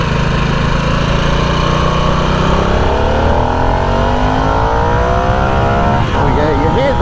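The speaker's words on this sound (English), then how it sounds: "You'll hear the engine change, the engine noise." Engine of a Harley-Davidson Nightster motorcycle revving steadily and loudly, its pitch rising smoothly across several seconds as it climbs through the revs, with a rough low rumble underneath throughout.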